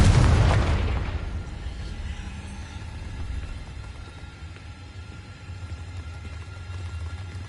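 A Confringo spell explosion in the Hogwarts Legacy video game opens with a loud burst that decays into a long, low rumble with faint debris.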